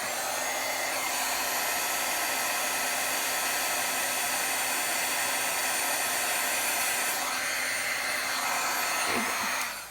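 An embossing heat tool blows a steady, loud whirring hiss over an embossed card for an emboss-resist papercraft project, running continuously and alone before cutting off at the end.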